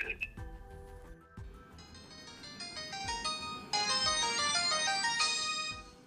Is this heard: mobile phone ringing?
yes